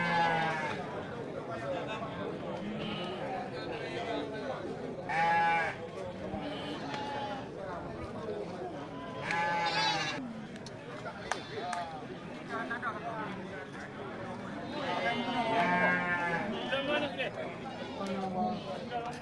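Sheep and goats bleat repeatedly at a busy livestock market, several calls rising above steady crowd chatter and background talk.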